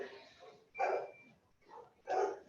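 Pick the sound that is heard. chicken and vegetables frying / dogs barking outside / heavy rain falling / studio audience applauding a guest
dogs barking outside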